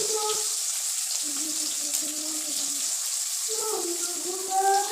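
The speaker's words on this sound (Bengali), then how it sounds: "এইবার গরম তেলে একটা একটা দিয়ে দেবো কাঁঠাল গুলো মশলা দিয়ে" Jackfruit pieces fry in very hot oil, giving a steady, hissing sizzle throughout, with a person's voice speaking faintly underneath.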